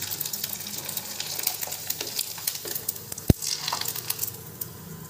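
Semolina papad frying in hot oil, a steady soft sizzle with faint crackle throughout and one sharp click near the end.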